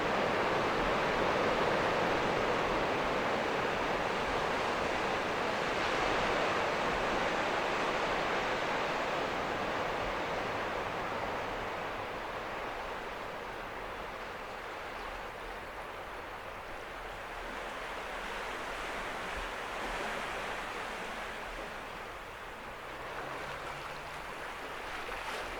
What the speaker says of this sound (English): all this mass of water you see flowing upriver